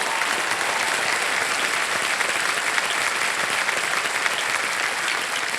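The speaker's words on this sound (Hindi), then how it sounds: "एक बार जोरदार तालियां हो जाएं इनके लिए।" Studio audience on the Hindi quiz show Kaun Banega Crorepati applauds loudly and steadily, a dense, even wash of clapping that fills the whole stretch without pause.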